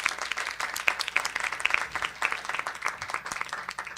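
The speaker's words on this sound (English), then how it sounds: "so an applause for her and her leadership." An audience at a county council proclamation ceremony applauds the Board of Education president, with crisp individual claps standing out in a brisk, lively round that continues throughout.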